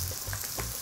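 Shallots frying in a pan while being stirred, a brief close sizzle with a few soft scraping stirs, fairly quiet.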